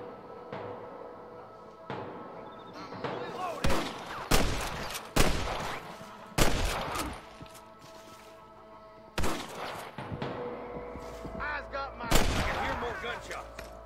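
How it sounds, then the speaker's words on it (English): Gunfire in Red Dead Redemption on Xbox 360, a string of loud, sharp shots with irregular spacing, some in quick pairs, over a quiet game background and faint voices. "Gunshots."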